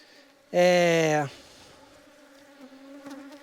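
Honeybees buzz loudly and close for under a second in a strong harmonic drone around a newly successful beehive, then fall to a faint background hum while a person speaks nearby.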